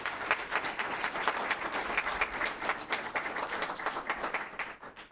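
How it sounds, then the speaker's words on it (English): An audience at a December 2018 city council meeting applauds local honorees with steady, dense clapping heard from a slight distance, holding at an even level before tapering near the end, with no talk above it. "Let's give them a round of applause"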